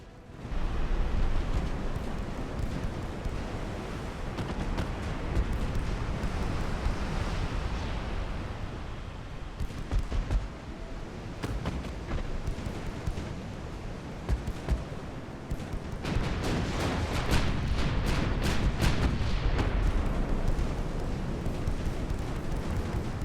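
Heavy 16-inch naval guns firing in Ultimate Admiral: Dreadnoughts, a long stretch of dense, roaring booms and rumbling blasts that swell and dip in waves over more than twenty seconds.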